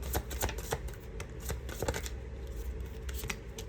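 Tarot cards shuffled by hand in quick riffling bursts, close and fairly quiet, with no one speaking.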